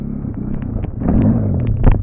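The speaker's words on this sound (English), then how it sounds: "this is how not to ride a dirt bike" A dirt bike's engine rumbles loudly and close while riding on icy snow, with a rising surge and scattered scraping knocks as the bike goes down in a crash.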